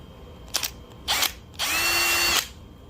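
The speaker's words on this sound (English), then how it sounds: "This is a 50 thousandths diameter pilot drill that I'm using." Up close, a small 0.050-inch pilot drill buzzes in two quick spurts into a phone mount arm, then runs steadily for under a second before stopping.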